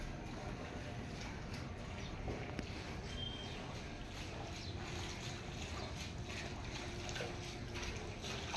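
Water on a flooded street makes a steady, even broadband wash that runs unchanged the whole time, with no clear splashes standing out.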